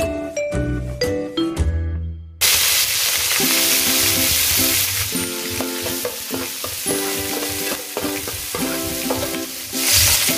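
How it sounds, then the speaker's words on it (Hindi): Curry leaves sizzle and crackle in hot oil in a pan on a gas stove, with a few clinks of a spoon before a steady, close frying hiss and repeated stirring scrapes. "अभी इसमें हम कड़ी पत्ता भी डाल रहे चकली में, इसलिए हम उसको तेल में थोड़ा फ्राई करेंगे"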